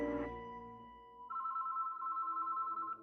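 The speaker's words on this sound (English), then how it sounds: "a phone rang inside of a house pretty far away from the hospital" A telephone rings inside a house, a faint, steady electronic ring that sounds alone, without voices.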